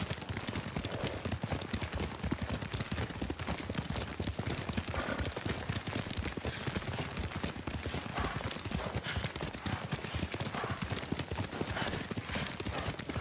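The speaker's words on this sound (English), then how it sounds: "Lord Sakai taught me to ride a horse." Steady, rapid clip-clop of horse hooves at a gallop in the video game Ghost of Tsushima, loud and continuous throughout, with a faint whinny and scattered distant shots in the background.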